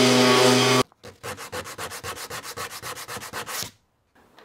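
Rhythmic back-and-forth sanding strokes on wood, about twenty quick regular rasps, close and loud, ending abruptly with a brief pause.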